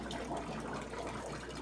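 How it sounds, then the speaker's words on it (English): Steady rushing of water from a drilled aquarium tank pouring and gurgling down a floor drain, continuous and fairly close, with no voices. "You can hear it going down the floor drain."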